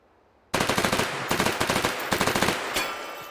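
A P90 submachine gun fires in the VR game H3VR: several rapid, sustained automatic bursts of sharp, loud reports, close and alone, separated by short gaps, the last burst trailing into a faint mechanical clatter.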